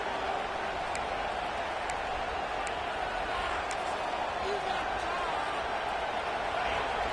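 A dense, steady video game stadium crowd roar fills the space without a break, loud and sustained like a packed stadium.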